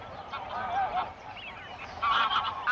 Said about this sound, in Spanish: Vuelan los gansos día y noche.